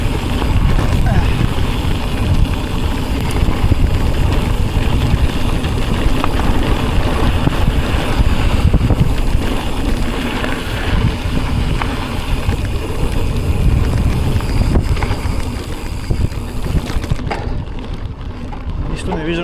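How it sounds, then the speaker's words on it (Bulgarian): Rain and gusting wind batter the microphone during a 40 km mountain bike race, the Murgash Classic cup, as a loud, steady roar that fills the whole stretch without letup. "Това е дъжд и вятър."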